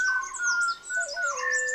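A Malabar whistling thrush sings before sunrise in the Western Ghats, a run of clear, sliding whistled phrases, close and bright against a quiet background.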